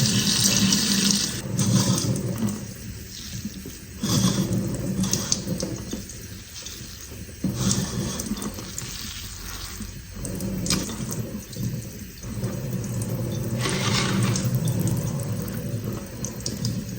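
Water pours and splashes in steady bursts onto a freshly repotted variegated Monstera cutting, stopping and starting several times at close range, with no voices.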